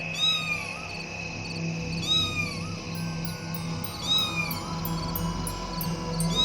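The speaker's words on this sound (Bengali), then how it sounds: "ওরে বাবারে, বিড়াল! হ্যাঁ, আবার বিড়াল।" A black cat meows repeatedly in rising, drawn-out calls over a steady bed of music and background ambience, with no talk.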